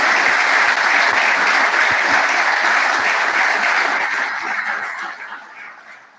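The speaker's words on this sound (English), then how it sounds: "I might give her a round of applause, please." Sustained applause from a graduation ceremony audience, dense and loud, holding steady before tapering off toward the end.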